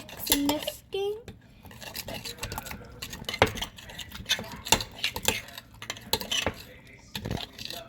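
Homemade slime is mixed in a bowl, with irregular wet squelches, scrapes and utensil clinks against the bowl, and brief bits of talk mixed in.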